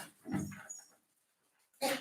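A dog barks and whimpers indoors behind a door, with a short cluster of yelps followed by a pause and then another louder bark, fairly close.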